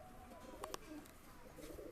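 Soft, low cooing of high-flyer pigeons, faint and somewhat distant, with a couple of brief clicks or taps partway through.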